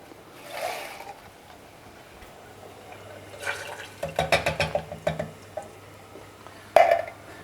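Water swirled in an emptied tomato tin is poured into a pan, giving a short run of gurgling glugs and splashes, then a final splash after a pause, with no talking.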